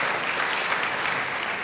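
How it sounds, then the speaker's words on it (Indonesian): A church congregation claps together in a dense, steady burst of applause, loud and close, with no voices over it. "Ayo kasih tepuk tangan dulu buat Tuhan kita."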